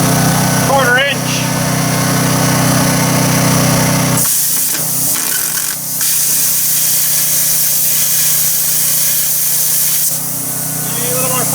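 A cheap plasma cutter slices through quarter-inch metal plate, giving a loud, continuous hissing roar that shifts in tone partway through as the cut goes on, close up, with no clear talk.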